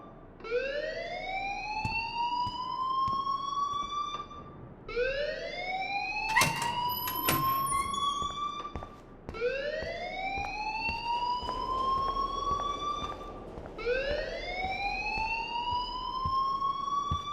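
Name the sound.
fire alarm ringing in Life is Strange video game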